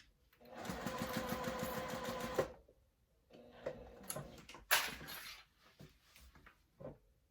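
A sewing machine stitches fabric in a steady, fast mechanical chatter for a couple of seconds, stops, then runs in shorter bursts with a few clicks and handling noises between.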